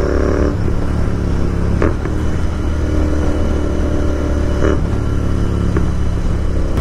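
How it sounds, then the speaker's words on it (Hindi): A motorcycle downshifts with the engine braking, producing a loud, steady exhaust drone broken by a few sharp crackles and pops, close and alone without talk. "आप सुनना डाउन शिफ्ट।"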